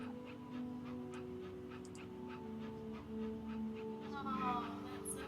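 A pet dog in the video game That Dragon, Cancer pants steadily and softly, with quiet background tones underneath.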